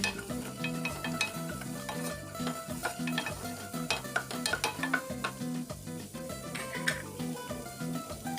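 Half a cup of carrot pieces frying in a pan for a winter vegetable soup, with a steady sizzle and repeated stirring scrapes and clinks of a utensil against the pan throughout.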